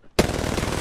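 Rapid automatic gunfire in a video game bursts in abruptly after a brief quiet moment, a loud, close, continuous rattle of shots that carries on to the end.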